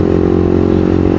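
Steady engine drone of a Honda CBR 150 CBU Thailand sport-fairing motorcycle while riding, loud and continuous with a constant low rumble.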